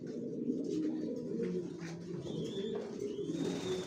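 Young racing pigeon chicks, top-quality Johnson racer babies raised in a loft, coo softly and steadily near the listener, with faint chirps mixed in and no talk.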